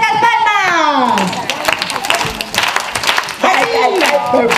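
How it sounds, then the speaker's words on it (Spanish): Children clap along at a children's theater play of Juan sin Miedo, bursts of scattered hand claps mixed with excited kids' voices and an adult performer calling out over them. "¡A ver esas palmas!"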